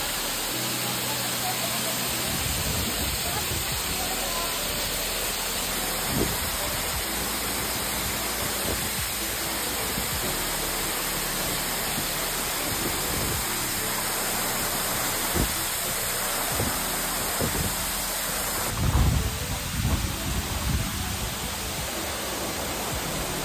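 Heavy rain pours steadily near a waterfall, a dense broadband roar with occasional low rumbles and thumps swelling toward the end, and faint voices beneath it.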